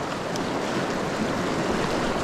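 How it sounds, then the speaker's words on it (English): Heavy stream current rushes steadily around a wader's legs in fast pocket water, a dense, continuous roar of churning water with no pauses and no voices. "When you're wading through heavy water like this, you always want to keep a little bit of upstream lean."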